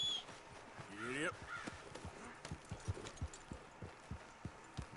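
A horse's hooves clip-clop at a steady trot in Red Dead Redemption 2, close and rhythmic, with a crow cawing briefly near the start and faint game ambience underneath.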